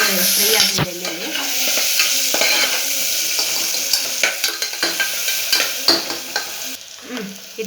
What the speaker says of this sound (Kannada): ಅದು ಈರುಳ್ಳಿ ಫ್ರೈ ಆಗಿದೆ ಎಣ್ಣೆಯಲ್ಲಿ.